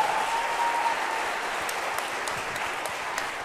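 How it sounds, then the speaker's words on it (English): A crowd claps warmly and continuously at a community performance, a thick wash of applause that holds steady and then eases slightly, with a few sharper claps standing out near the end. "Give her another big round of applause"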